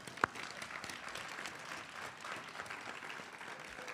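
An audience at a building dedication event applauds steadily, a dense wash of many hands clapping at moderate distance with one sharp knock near the start and faint voices underneath.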